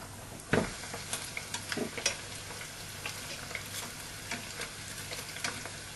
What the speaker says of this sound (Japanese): これから揚げます。